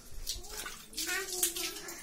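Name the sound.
water poured over a child during a bath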